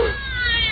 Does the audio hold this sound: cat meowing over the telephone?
yes